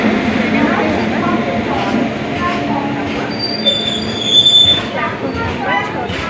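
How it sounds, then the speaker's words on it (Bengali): Dhauli Express pulling away from the platform, with steady rolling rail rumble, wheel noise and a brief high squeal of wheels; the sound is continuous and moderately loud, with some background voices. "ফাইনালি ট্রেনে উঠে গেছি আর ট্রেন ছেড়েও দিয়েছে।"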